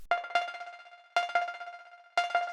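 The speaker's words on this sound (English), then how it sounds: "Now I'm going to add a very high Synthcussion kind of sound" A very high synthcussion sound, a bright percussive synth with pitched metallic tones, hits in a repeating pattern of three quick decaying stabs, with a short pause between groups, clear and alone.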